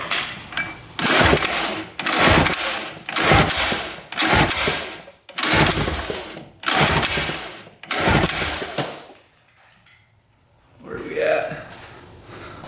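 A 1980s jet-powered surfboard engine cranks over with the throttle open, giving about seven loud, rhythmic churning bursts, each roughly a second long, before falling quiet.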